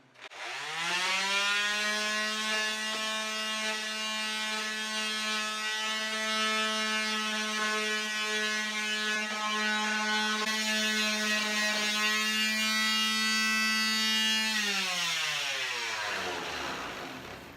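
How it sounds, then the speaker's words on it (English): An electric sander on wood whines at a steady high pitch for most of the stretch, starting abruptly and winding down at the end. "I'm going to use the electric sander to knock a few of those down to save time."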